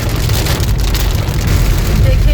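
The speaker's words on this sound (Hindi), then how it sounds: "देखिए जी बारिश माशाल्लाह बहुत तेज हो गई है" Heavy rain pours down in a dense, steady hiss, loud and close, drumming on a surface.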